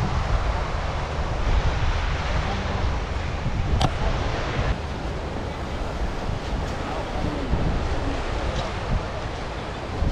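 Strong wind rumbles and buffets the microphone continuously on Patar White Sand Beach in Bolinao, Pangasinan, with surf washing in the background and a faint voice now and then.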